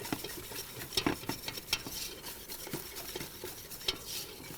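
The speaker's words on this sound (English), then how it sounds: "if I stop stirring it, it's starting to bubble, almost foam" A spoon works steadily through a roux bubbling and beginning to foam in a pan, with soft scraping strokes over a light, continuous fizzing crackle; close and moderately loud, no voices.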